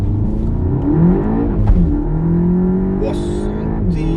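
A VW Golf 7 GTI TCR running a Stage 1 APR tune at 380 hp revs steadily nearby, its deep engine drone rising and falling with a brief blip, loud and continuous.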